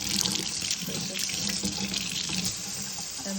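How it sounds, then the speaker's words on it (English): Cold water runs steadily from a kitchen tap into a sink as hands are wet during sourdough making, a continuous close splashing hiss with no talking. "So I am going to wet my hands in cold water."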